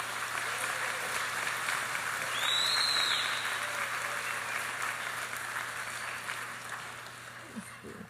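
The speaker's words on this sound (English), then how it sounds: "So give yourself a round of applause" Graduation audience at a middle school ceremony applauding, a steady wash of clapping throughout the hall with faint talk in the background.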